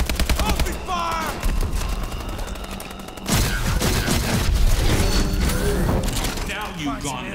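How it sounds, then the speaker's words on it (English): Rapid automatic gunfire bursts from a Call of Duty match, loud and dense, with a brief lull near three seconds before heavier sustained shooting and thumping impacts resume, mixed with game voices. "Open fire!"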